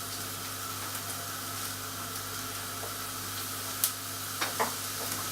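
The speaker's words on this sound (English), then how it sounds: "So now you can start hearing that frying." Onions frying in a pan while lasagne is being made, a steady low sizzle with a few sharp pops near the end, fairly quiet and with no talking.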